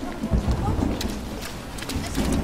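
Rain falling outdoors, a continuous soft patter and hiss with a low rumble underneath, fairly close and steady over a couple of seconds.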